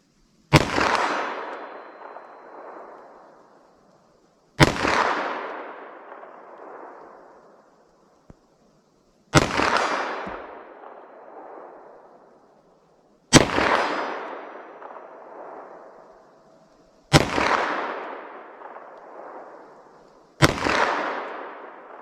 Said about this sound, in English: I'm just gonna get a front sight picture, aim center mass, try to fire as slow as I can.